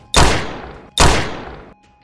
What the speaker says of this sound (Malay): Ada 6 das tembakan yang telah dilepaskan oleh Henley ke arah Cole